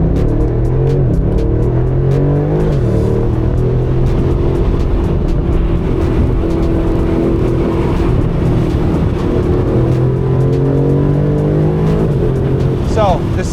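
An Aston Martin DB12 Volante grand tourer with a ZF 8-speed gearbox and rear-wheel drive revs its engine loudly, the pitch rising and falling through several swells before a sharp final rev.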